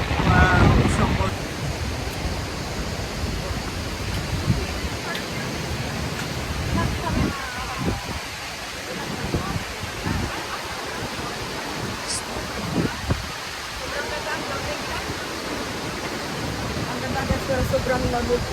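Multnomah Falls in Oregon pours in a broad, steady rush of falling water heard from nearby on a cold day, with people talking intermittently over the roar.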